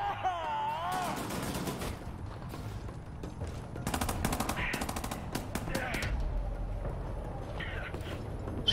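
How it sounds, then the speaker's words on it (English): Rapid automatic gunfire in the shooter game Wolfenstein The New Order, bursts of close loud shots repeating over a dense background of game sound and music. "Shooting"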